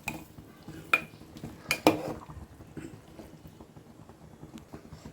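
Tempering of chillies and curry leaves mixed into kootu in a pot, heard as a few sharp ladle clinks and scrapes against the metal around the one and two second marks, then quieter stirring, close by without talk.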